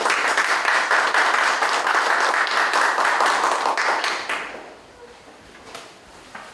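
Audience applause fills a Korean church pastors' forum hall, dense and steady clapping for about four seconds before fading out into a quiet room.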